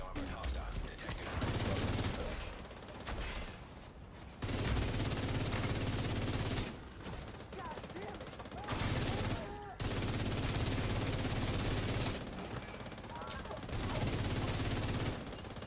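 Sustained automatic gunfire in The Division 2 comes in loud, dense bursts separated by brief pauses, with voices in the background between volleys.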